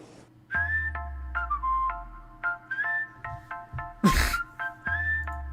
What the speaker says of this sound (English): This whistling copyright-free music.